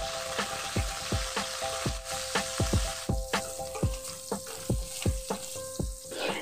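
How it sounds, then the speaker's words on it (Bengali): Pieces of bitter gourd frying in hot oil over a medium flame, a steady close sizzle punctuated by sharp clinks of a spatula against the pan at a roughly regular pace. "এখন আমি করলাগুলোকে মিডিয়াম ফ্লেমে একটু গোল্ডেন ব্রাউন হওয়া পর্যন্ত ভালো করে ভেজে নিচ্ছি।"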